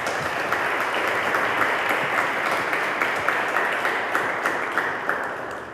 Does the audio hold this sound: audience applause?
yes